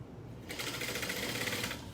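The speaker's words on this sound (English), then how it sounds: "So just sew at 1/4 of an inch still around here to put it together." A sewing machine bastes fabric in one continuous run of rapid, even needle chatter. It starts after half a second of quiet and stops just before the end, heard up close.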